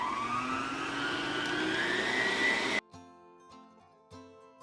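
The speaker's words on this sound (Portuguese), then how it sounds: "nós vamos bater só mais um pouco para que a massa fique realmente uniforme" An electric mixer beats cake batter after the flour goes in, a loud steady whine that rises slowly in pitch, then stops abruptly, leaving faint clinks and light bowl knocks.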